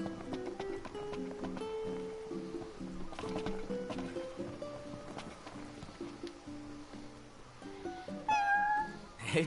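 A cat meows several times in the video game Final Fantasy XV, fairly close and moderately loud, with soft game music and ambience underneath.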